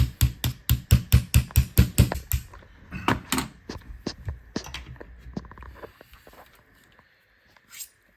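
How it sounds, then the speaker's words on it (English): Sharp metal hammer strikes drive a pin punch into a jammed AK rifle, a fast run of about ten loud, evenly spaced blows followed by scattered, lighter taps and clicks, then near silence. "so I am going to use a pin punch"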